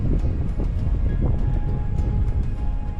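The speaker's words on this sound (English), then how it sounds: "It's kind of windy" Steady, loud rumbling wind buffeting the microphone outdoors at a lakeside battlefield site in Sackets Harbor, with faint ticking sounds in the background and no speech.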